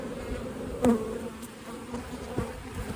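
Honeybees crowd an open hive frame of brood and stored pollen, their steady close buzzing hum running without a break, with a slightly louder swell near the start.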